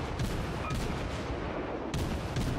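Naval gun salvos from German cruisers in World of Warships boom repeatedly under a constant dense battle roar, with a few sharp cracks spaced about a second or more apart, fairly loud and without talk.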